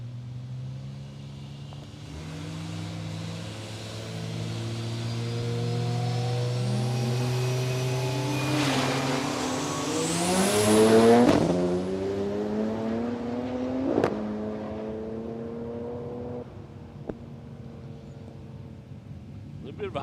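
White Ford Falcon wagon nicknamed Snoozy making a drag racing pass at Palmyra Raceway, a loud engine roar rising through the gears and peaking before fading, with a commentator talking over it.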